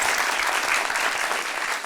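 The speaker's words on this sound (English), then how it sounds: "Big hand of applause for the delegation." Studio audience applauding a visiting delegation on a television talk show, a steady, dense burst of clapping that stays loud and even throughout with no voices over it.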